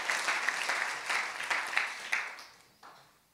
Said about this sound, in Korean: 박수 한번 더 주시길 바랍니다